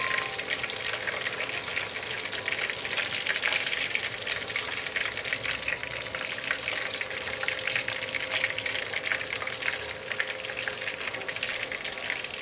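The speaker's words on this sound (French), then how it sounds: "on va pousser pour la deuxième cuisson" Chicken karaage deep frying in hot oil for a second fry, giving a dense, steady sizzle and crackle that runs evenly throughout, close and fairly loud, with no talking.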